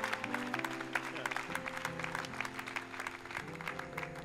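A church congregation claps in a steady, fairly quiet patter, with organ or keyboard chords sounding underneath.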